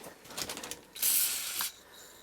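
WD-40 gets a short hiss from its aerosol can in a workshop, a burst of under a second that follows a few light clicks and rattles, close by with no talking.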